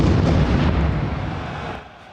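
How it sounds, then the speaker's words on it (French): A deep explosion echoes through the Stade de France during a France–Germany football match amid the Paris terrorist attacks. It gives a heavy rumbling boom with crowd noise, then slowly fades. "Une explosion résonne dans le Stade de France."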